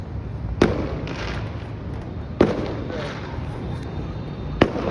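New Year fireworks boom three times at irregular intervals, sharp bursts cutting through a constant rumbling background of distant crackle and noise.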